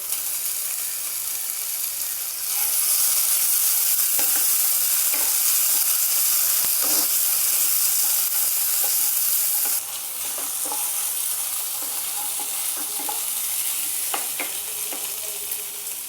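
Masala is stir-fried with ground fried prawn paste, giving a loud, close frying sizzle that rises sharply after a few seconds and dips later. Scattered clicks and scrapes from a spatula stirring against the pan run through it.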